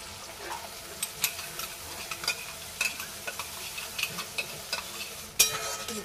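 A spice paste of cumin, ginger, green chilli and dried chilli fries in a pan for a rohu fish kalia, giving a steady low sizzle broken by intermittent clicks of stirring, then a brighter sizzle burst near the end.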